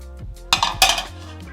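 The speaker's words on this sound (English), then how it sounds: "We want a high-walled frying pan on the hob." A high-walled metal frying pan clatters down onto a hob with a couple of quick clanks and a brief scrape, close by.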